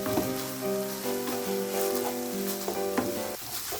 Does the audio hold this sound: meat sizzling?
yes